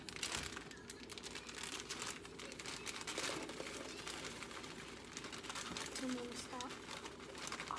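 A 10-ounce bag of miniature marshmallows crinkles steadily while being emptied into a pot, a soft papery rustle under faint background noise.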